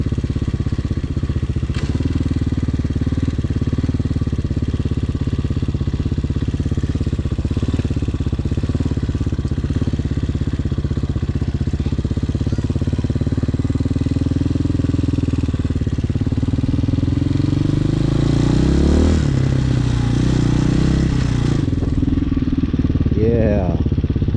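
A Hawk 250cc motorcycle is ridden in a steady, loud engine drone that holds for the whole stretch, with the revs shifting near the end and a voice talking over it.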